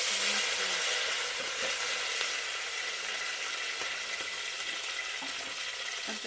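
Tomatoes hit a hot saucepan over a village cooking fire and sizzle, a soft steady hiss with faint crackles and occasional stirring clinks, continuous throughout and with no voices.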